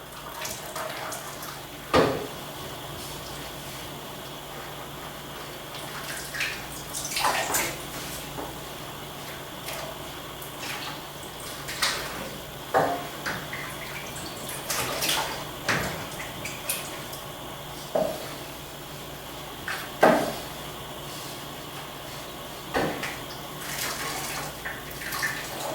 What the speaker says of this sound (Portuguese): Com a ajuda da colher, então vamos colocar esses tecidos aqui na água.